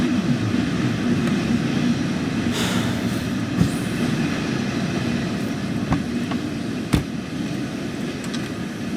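A DB Class 146 electric locomotive rumbles steadily in Train Sim World 2, a constant low running drone with faint clicks and brief higher whines passing over it, no voices.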